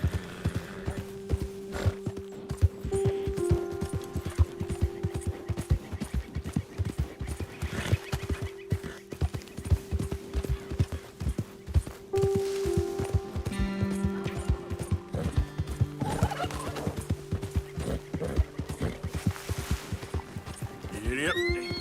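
A horse gallops in Red Dead Redemption II, steady clip-clop hoofbeats running throughout with occasional neighs, while a rider talks over it.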